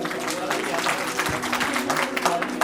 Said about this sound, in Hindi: जोरदार ताली के साथ।